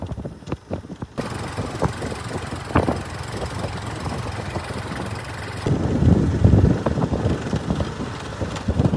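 A motorbike engine idles outdoors at a hilltop spot, a steady low rumble with gusty wind buffeting the microphone, growing rougher and louder for a few seconds toward the end.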